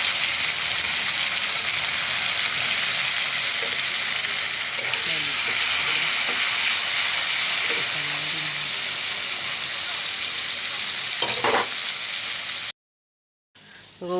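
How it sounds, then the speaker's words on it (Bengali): Bitter gourd frying in oil in a wok makes a loud, continuous hissing sizzle that runs steadily for a long stretch before cutting off abruptly into silence near the end. "একটু এতে উচ্ছেগুলো ভেজে নেব।"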